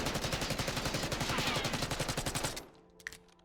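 A Black Ops 6 weapon fired in one long automatic burst at a wall, rapid evenly spaced close shots that stop after about two and a half seconds, followed by a faint click.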